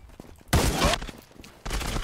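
Two sharp, loud M1 Garand rifle shots in a video game, each a sudden blast with a short ringing decay, spaced about a second apart.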